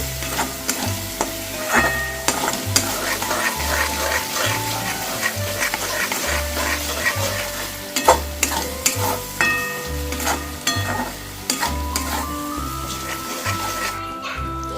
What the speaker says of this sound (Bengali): এই চানা মশলা দিয়ে দিচ্ছি দিয়ে সব কিছুকে আমি ভালোভাবে এখন কষিয়ে নিচ্ছি